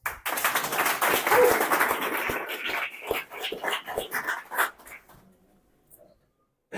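A small group of people clapping at a DJ event, a dense burst of applause that thins into scattered claps before fading to quiet, with faint voices underneath.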